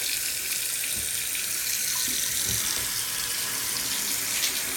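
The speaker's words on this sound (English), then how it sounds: "We run the toilet. We're running the water." Water runs steadily from a faucet into a bathroom pedestal sink, with a toilet also running, a constant near hiss and splash that continues without pause throughout.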